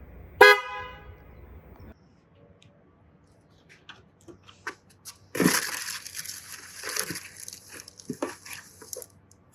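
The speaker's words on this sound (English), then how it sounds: "we can do a horn test. See before and after what it sounds like." A short, loud aftermarket upgraded car horn blast on a 2023-2024 Honda CR-V at the start, then clicking and rattling handling noises with a burst of hissy clatter.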